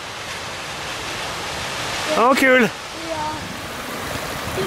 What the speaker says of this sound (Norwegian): Nei, det var den fossen